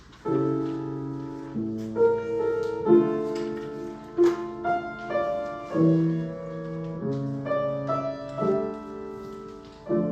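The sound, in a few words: requiem music recording, sudden loud subito forte passage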